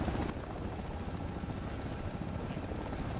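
Helicopter during an air assault training exercise, a steady loud rotor and engine roar with rapid blade chop, close and continuous throughout.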